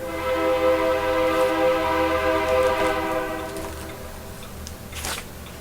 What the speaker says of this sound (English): And the train goes by, because that's what we do here.